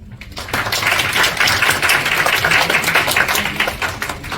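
An audience claps after a final web development project demo, close and loud, with a quick rush of many overlapping hand claps that starts abruptly and stays steady without fading.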